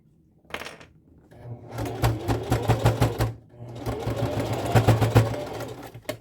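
A sewing machine stitches through a corset while the busk is swapped for a zipper and boning is added. It runs in two steady bursts of rapid motor-driven stitching, clear and close, with a short pause between them and no talk.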